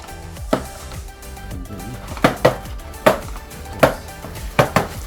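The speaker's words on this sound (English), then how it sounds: "It's a satisfying sound, all this clipping." Plastic trim clips pop free from a Mercedes-Benz A250 AMG Sport, a series of sharp, close snaps and clacks arriving in irregular bursts of one or two over a faint background rustle.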